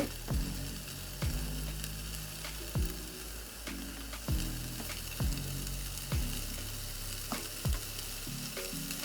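Cheese slices sizzle and melt in the holes of a hot chaffle maker, a dense steady crackling hiss punctuated by regular sharp ticking pulses, close and with no talking.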